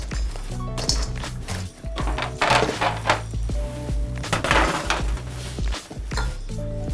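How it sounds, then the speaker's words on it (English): Crispy Korean fried chicken pieces dropping into a bowl, a run of close, hard clinks and knocks against the bowl with some music underneath. "You hear how crispy they are hitting that bowl?"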